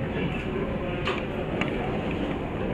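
A train rumbles past steadily and fairly close, with faint clicking of wheels on the rails.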